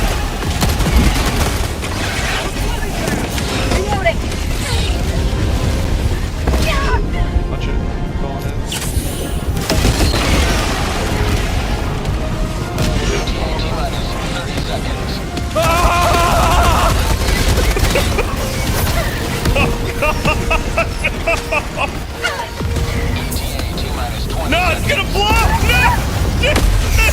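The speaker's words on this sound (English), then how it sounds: "Requesting orbital strike." Orbital strike explosions land in the Helldivers 2 game amid dense gunfire, with heavy repeated booms and crashes layered over continuous shooting while players talk throughout.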